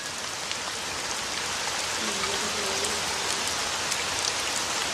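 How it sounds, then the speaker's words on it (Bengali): Steady rain falling as heard from a balcony, a continuous dense hiss of drops on surfaces, even and moderately loud throughout with no talking. "ব্যালকনিতে দাঁড়িয়ে দাঁড়িয়ে এরকম বৃষ্টি দেখলে কতই না ভালো লাগে"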